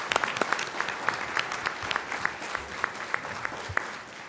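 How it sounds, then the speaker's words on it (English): Applause from a conference audience for the speakers at a cancer care discussion, a steady patter of claps with sharper individual hand claps standing out, moderately near and sustained throughout without speech. "I think we ought to give a round of applause to the speakers"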